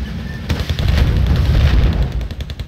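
Infantry open fire on a T-64 tank in Wargame, a dense, close run of booming shots and rattling impacts that starts abruptly and continues loudly without a break, with no talking.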